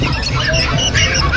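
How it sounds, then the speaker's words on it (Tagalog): Birds squawk and honk nearby, harsh overlapping calls over a busy, noisy background at the Bocaue pet market. "May mga ibon din dito."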